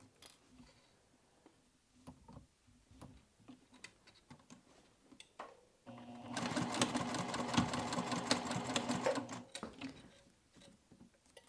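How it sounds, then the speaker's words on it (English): A sewing machine stitches a 3/8 inch seam allowance on a crossbody bag with dual zips, a steady loud whirring run of about three seconds set between quiet handling clicks and taps. "We're going to sew a 3/8 inch seam allowance, then we're going to press it away and top stitch"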